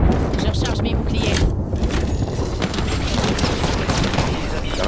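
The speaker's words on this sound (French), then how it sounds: "J'ouvre le feu sur l'ennemi." Gunfire in the video game Apex Legends rattles in loud, rapid bursts with booming impacts and cracks, layered over continuous in-game action noise.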